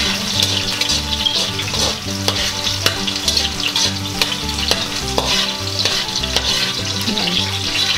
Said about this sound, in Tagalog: isusunod na nating gisahin tong ating dahon ng sibuyas